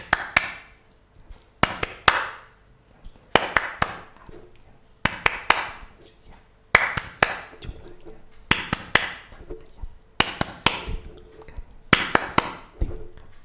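Children in a classroom do a rhythmic group clapping routine for the An-Nas lesson. Six repeated bursts of sharp claps come in a patterned beat, with voices chanting between them.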